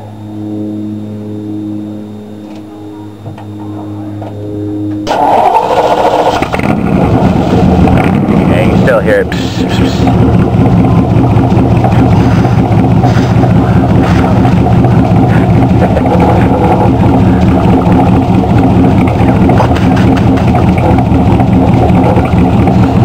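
A 1947 Ford engine with an exhaust leak starts up after a quiet low tone and runs steadily and loudly, a dense rumbling idle with a raspy, puffing exhaust edge that carries on to the end.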